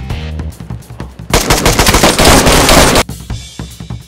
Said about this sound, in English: Man, why are you shooting people?